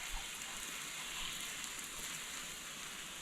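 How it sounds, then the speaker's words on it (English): Water runs steadily from a tap while a fish-filleting knife is rinsed, a soft continuous hiss with no talking. "I'm just going to quickly rinse my knife off."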